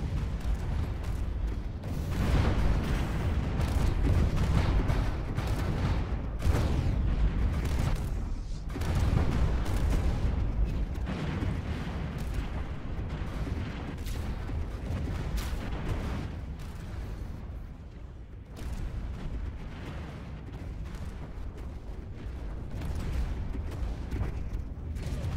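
Laser weapons fire steadily during a Stellaris space battle, a dense, continuous wash of rumbling blasts and booms with no pause, moderately loud and constant throughout.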